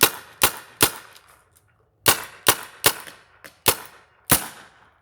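A Kingman Spyder Aggressor XT paintball marker fires in sharp, loud pops, a quick burst of three followed by a run of five evenly spaced shots, each cracking out alone with no talk.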